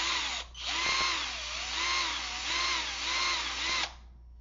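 A drill motor, taken out for use as a robotics drive but still wired to the drill's electronics, spins up and whines steadily with a gently wavering pitch for a few seconds, then cuts off. It is loud and close, with no voices.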